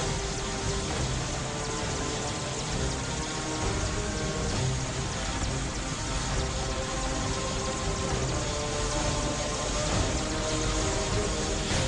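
Heavy rain falls in a dense, unbroken hiss of steady, loud drops, with no voices present.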